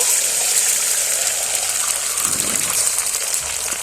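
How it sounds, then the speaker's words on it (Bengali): Beaten egg hits hot oil in a wok and sets off a loud, steady hiss of sizzling that fills the whole stretch, with a slight low surge partway through. "ডিমটা ঢেলে দেব"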